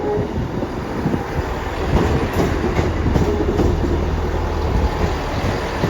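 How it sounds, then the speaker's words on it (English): A Class 158 diesel multiple unit, two coupled sets, rolls into platform 5 at Carlisle station with a steady loud rumble and rail clatter, wind buffeting the microphone, no voices. "Now we've got another train coming in on platform 5"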